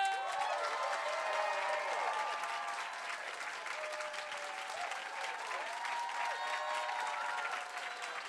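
Audience applause and cheering for a band fills a venue, steady and dense throughout, with a few voices and whoops rising over the clapping.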